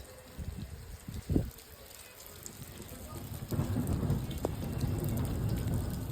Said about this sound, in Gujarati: જોયું ને તમે કેવો પવન ને કેવો વરસાદ આવ્યો